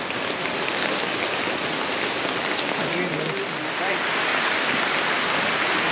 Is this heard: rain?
yes